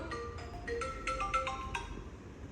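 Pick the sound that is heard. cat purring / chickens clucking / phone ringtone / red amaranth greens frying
phone ringtone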